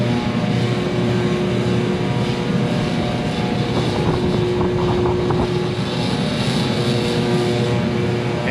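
A cheap diesel heater runs with a steady, loud, unbroken roar and a constant droning hum, close by and unchanging throughout, with no talking.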